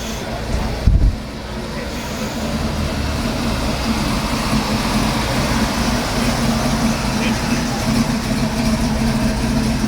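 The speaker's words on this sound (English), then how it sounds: "Nice El Camino rolling in." A Chevrolet El Camino classic car pulls in at an outdoor morning car show, its engine a steady close rumble running continuously behind a short bump near the start.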